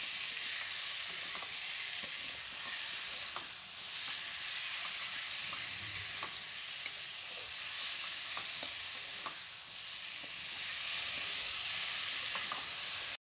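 Bengali fish curry sizzles steadily in a frying pan over the full stretch, with faint occasional scrapes of stirring and light steam hiss, close and continuous with no talk.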